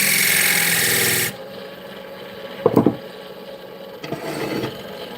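A skew chisel cuts a small shelf into spinning wood on a lathe, a loud continuous rasping cut for just over a second before it stops, followed by a few faint knocks and scrapes.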